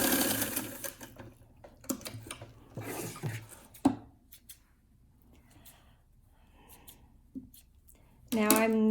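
A sewing machine stitches a fabric face mask in short bursts with brief stops for back stitches, close and fairly loud, with a speaking voice between runs.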